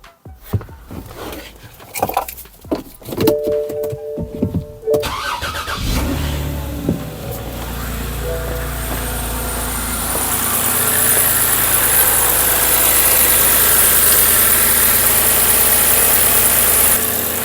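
BMW E90 328i with a no-crank fault started on a jump start: a few seconds of clunks and handling, then the starter cranks and the engine catches, settling into a steady, loud idle that rises a little later.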